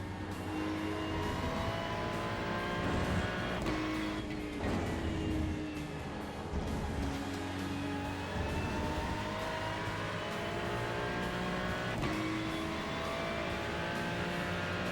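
A Ferrari 296 GT3 race car in a racing video game at Road Atlanta, its engine revving and climbing through gears with repeated upshifts and rising pitch, steady and loud throughout.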